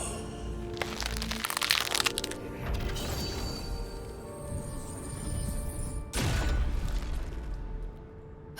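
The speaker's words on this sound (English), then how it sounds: "As the lock opens" A lock opens in the video game Baldur's Gate 3: a dense run of clanking, ratcheting mechanism noises and crunchy cracks, with a second burst of grinding metal near the end, fairly loud over a sustained game backdrop.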